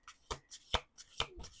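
Tarot cards being shuffled by hand in a quiet room, several crisp riffling bursts in quick succession, close and fairly loud, with no talking.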